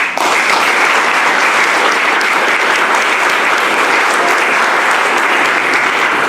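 Loud, dense applause from an awards ceremony audience, starting abruptly and sustained evenly as a thick roar of many hands from start to finish.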